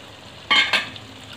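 Two quick, soft scrapes of a spoon through kadai paneer with ginger and green chilli strips in a pan, faint and close with a low background hiss.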